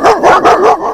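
A dog barks loudly and close up in four quick, rhythmic yaps with a whiny, yelping edge, filling the short clip with nothing else heard.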